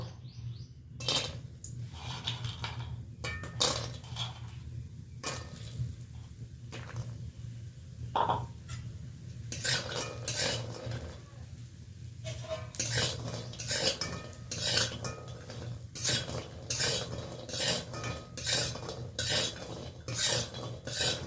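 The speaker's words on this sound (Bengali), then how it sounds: "বড়িটা ভেজে নেব।" Lentil dumplings (bori) fry in three spoons of oil in a hot wok while a utensil stirs them, producing repeated sharp metallic clinks and scrapes over a faint hiss, with birds chirping in the background.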